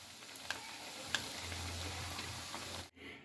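Egg vada frying in oil on a medium flame gives a steady, soft sizzle with a few faint ticks and clinks, quiet and continuous, then cut off abruptly near the end.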